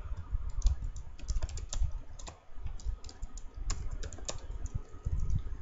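Steady typing on a computer keyboard while writing PHP code, a close, continuous patter of key clicks with brief pauses and no talk.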